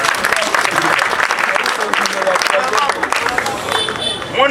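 A crowd applauding, dense steady clapping that fills the whole stretch at close range, with cheering and voices mixed into it.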